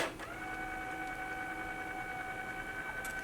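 An Epson label printer running on a lithium-ion battery prints a label, giving a steady mechanical whir with sustained tones that holds evenly for several seconds at moderate volume, with no voices.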